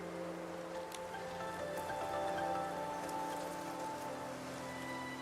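Rain falling in the Infinity Nikki video game: a steady, moderately soft patter of drops on surfaces with faint sustained background tones, continuous throughout and without speech.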